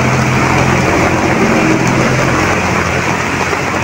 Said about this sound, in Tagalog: Diba, lakas nga ng ulan